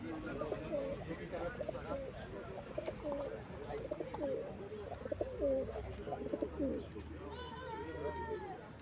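Many caged birds coo and chirp together in a steady, busy chorus at the Nazilli bird market, with people talking nearby underneath and a brief higher trilling call near the end.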